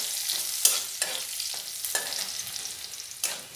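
Onions and whole cumin seeds stirred as they fry in a pan, a close sizzle broken by several sharp scraping strokes of the spoon at uneven intervals, with no voices.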